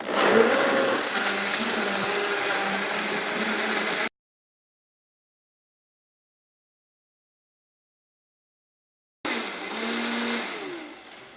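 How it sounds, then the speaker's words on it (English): A Vitamix high-powered blender roars loudly for about four seconds, cuts out to silence, then whirs back on near the end while making beet soup. "we're using a Vitamix, which is the high-powered blender"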